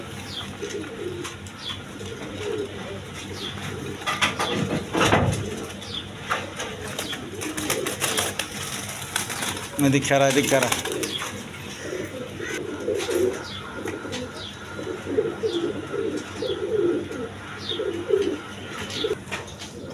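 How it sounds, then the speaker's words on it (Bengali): Sirazi Lahori pigeons coo in repeated low, throaty phrases throughout, with other birds chirping around them, a sharper burst midway and a brief spoken voice. "এখানে এক পেয়ার সিরাজি লাহোরি কবুতর আছে দেখেন, কোয়ালিটি সম্পন্ন কবুতর"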